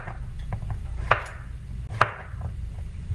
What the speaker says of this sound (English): cut up my other squash